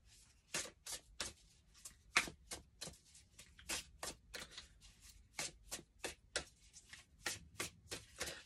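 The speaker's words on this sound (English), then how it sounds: "Let's just pull one more card from a different deck." A deck of tarot cards is shuffled by hand in quick, crisp riffles and taps, a steady close rhythm of sharp papery bursts with no talk.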